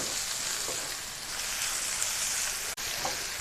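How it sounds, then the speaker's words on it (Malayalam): Jaggery being stirred into onion chutney frying in oil, a steady moderate sizzle with soft scraping of the stir, brief pause near the end, no speech. "അപ്പോൾ അതുകൂടെ നമുക്ക് ചേർത്തിട്ടൊന്ന് ഇളക്കാം"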